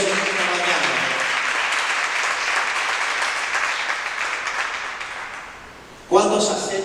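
A church congregation breaks into loud, sustained applause that slowly fades over several seconds, then a voice starts speaking over the tail end.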